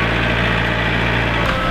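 A tractor engine runs steadily at close range on a permaculture property, a loud, continuous low rumble and drone with no break across the short stretch.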